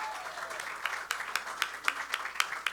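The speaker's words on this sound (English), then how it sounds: "How about another round of applause?" An audience at a Houston kickoff event claps with fairly faint, scattered applause from a modest crowd. Individual claps stand out in an uneven rhythm that builds slightly toward the end.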